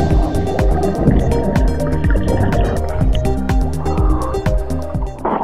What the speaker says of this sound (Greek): Επιβάλλεται και μια γρήγορη βουτιά σε αυτά τα κρυστάλλινα νερά.